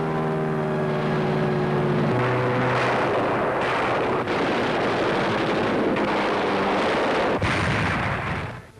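Naval and aircraft bombardment at Leyte Gulf in 1944: heavy artillery fire and explosions pound continuously over droning aircraft engines, loud and dense throughout on an old wartime film soundtrack.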